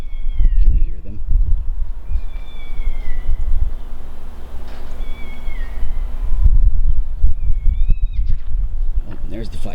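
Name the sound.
cats fighting in the distance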